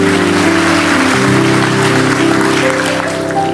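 A church congregation claps steadily for several seconds during a sermon, dense applause filling the room while sustained music tones play underneath.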